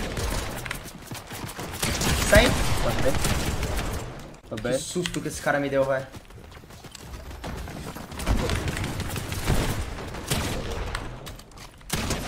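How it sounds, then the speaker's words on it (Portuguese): Gunfire in an online shooter video game, with rapid bursts of shots and rattling mechanical noise coming in waves, mixed under a player talking excitedly. "tô tomando tiro de todo lugar"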